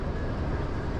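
A high-speed train running between Medina and Mecca at around 300 km/h, heard from inside as a steady, dense low rumble and rolling roar that fills the whole second without a break or any voices.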